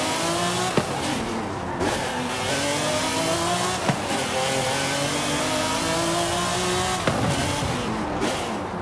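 A 1997 McLaren F1 GT with a V12 engine drives in the Forza Horizon 5 racing game. The engine revs up and drops back through several gear changes, loud and continuous, with sharp shift transients and no voices.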